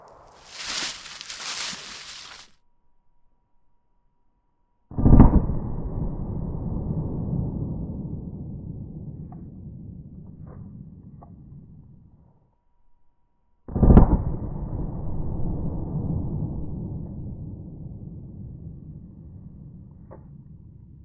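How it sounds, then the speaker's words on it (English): Two loud, sharp .45 ACP pistol shots ring out several seconds apart, each followed by a long echoing outdoor decay, after a brief earlier rustle. "Now let's hit that with our 45 ACP."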